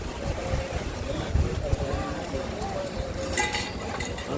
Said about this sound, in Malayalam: ആണ്ട് അപ്പുറത്തൂടെ വരുന്ന വള്ളം.